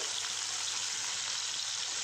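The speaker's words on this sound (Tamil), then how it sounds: "தண்ணி தெளித்து நம்ம வந்து ஃப்ரை பண்ண போகிறோம்" Steady, bright sizzling of fish frying in a hot pan, an even hiss with no pauses and no talking.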